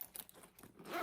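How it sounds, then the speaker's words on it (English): A short, scratchy zip pulled on a Baggallini purse, close up, with rough metallic teeth clicking for about a second. "It's going to zipper all the way down on both sides"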